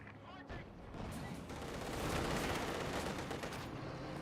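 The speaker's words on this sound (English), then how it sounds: "T-476 firing away. The cannon warfare there." Tank cannon fire and gunfire crackle through a Company of Heroes 2 battle, a T-476 tank firing amid dense, continuous combat noise that swells in the middle, moderately loud, with a voice talking over it.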